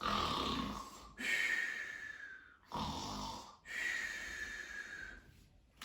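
A voice imitates loud snoring in three long, rasping breaths with brief pauses between, close and clear.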